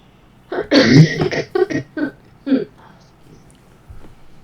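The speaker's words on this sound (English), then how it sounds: "it just sounded like a rough cough" A rough, raspy cough burst followed by a few smaller hacking sounds, close and fairly loud, trailing off into quiet.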